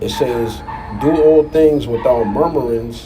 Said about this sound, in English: Sorry for that dog.